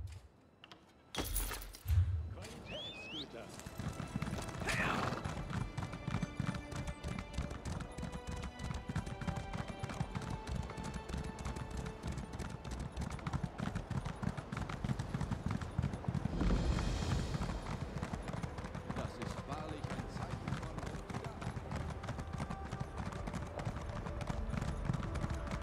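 Horse hooves clip-clop steadily in The Elder Scrolls Online, in the Alik'r Desert, a continuous rhythmic trotting that stays fairly close for most of the stretch, following a brief sharp sound at the start.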